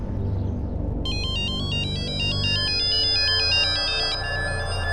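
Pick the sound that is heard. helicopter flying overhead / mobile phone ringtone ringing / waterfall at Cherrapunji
mobile phone ringtone ringing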